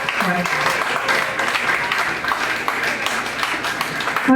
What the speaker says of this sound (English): Okay, again a round of applause to Dr.